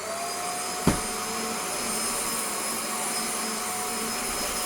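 A Shark NV680UK Power Speed Lift Away vacuum cleaner with a faulty, burnt-smelling motor drones steadily and loudly over a rug, with one brief bump near the start and no talking.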